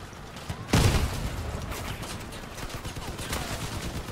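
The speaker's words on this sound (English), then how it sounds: "I'm gonna shoot at you a bunch" Gunfire from the Crossout vehicle combat game: a sharp loud blast opens, then a sustained rattle of rapid shots and mechanical clatter continues steadily at close range.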